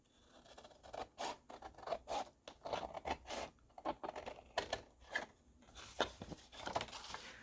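Scissors or a blade trim a collage board made from food packaging, giving soft, close snipping and scraping cuts in an uneven series of short strokes, fairly quiet.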